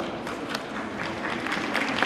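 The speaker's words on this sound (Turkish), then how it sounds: "Alkışlarla geliyorlar." A crowd of wedding guests applauds steadily as 151 first-time-marrying couples come onto the stage, a dense, continuous clatter of many hands at close range.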